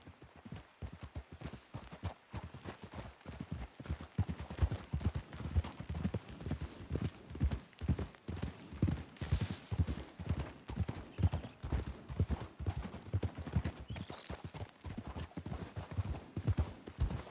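Steady rhythmic clip-clop of horse hooves trotting on hard ground in the video game Red Dead Redemption 2, close and continuous, with faint creaks and a brief whinny in the background.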